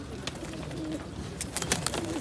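Pigeons coo softly in low, rolling murmurs at an animal market in Łomża, Poland, with a few sharp rustles and flutters nearby and faint background noise.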